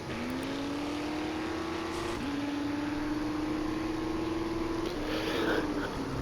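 A truck drives along in the survival game 7 Days to Die, its engine holding a steady droning tone that shifts pitch slightly as it changes gear, with no talk.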